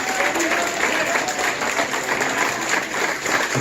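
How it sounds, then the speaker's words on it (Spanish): A church congregation claps loudly and continuously in a dense, sustained burst of applause during a sermon service, with crowd murmur blended in. "Denle un fuerte aplauso al Señor."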